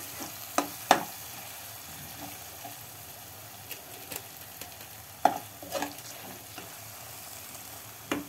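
Paneer bhurji cooks in a pan with a soft continuous sizzle, broken by occasional sharp spoon taps and scrapes of stirring, close and moderately quiet.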